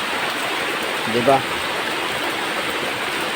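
Heavy rain pours down in a steady, dense hiss, loud and unbroken, while a person briefly speaks partway through.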